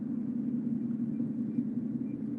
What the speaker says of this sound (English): Except the noise of the car.